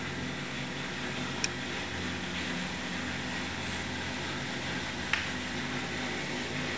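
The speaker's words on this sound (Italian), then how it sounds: "Si sente il rumore della lavatrice in funzione" A washing machine runs on the ground floor of an old farmhouse, giving a steady broadband mechanical hum with a couple of faint clicks, fairly quiet and continuous throughout.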